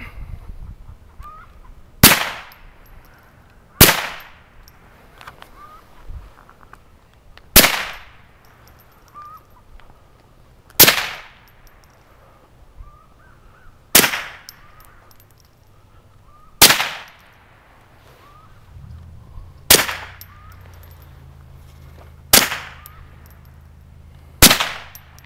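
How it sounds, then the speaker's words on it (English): Nine sharp rifle shots from a Marlin Model 60 fired outdoors, evenly spaced a couple of seconds apart, each a loud crack with a short decay into quiet. "let's get to the shooting part"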